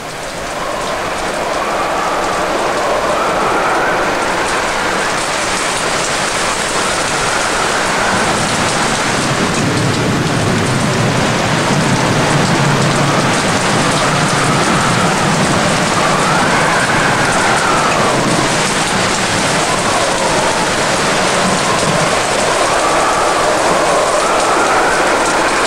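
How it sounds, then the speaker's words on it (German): Heavy rain pours down at sea aboard a sailing boat, a loud, dense, unbroken hiss and roar that holds steady for the whole stretch with no voices. "Ich freue mich auf den Regen, aber nicht, wenn es so einen starken Wind gibt."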